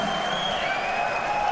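A darts crowd in Innsbruck at the 2015 European Darts Matchplay cheers loudly after a player misses double 8, a sustained roar with shrill whistles running through it.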